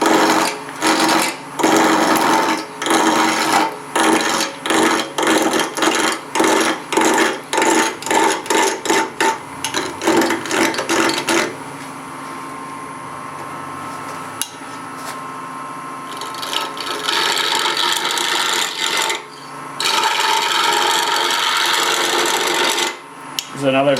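A lathe tool takes a planing cut along a wooden box or drawer blank, making rapid rhythmic scraping strokes that turn into a long continuous shaving rasp, close and loud with no talk.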